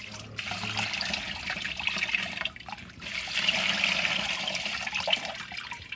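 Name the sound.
water being poured into a bucket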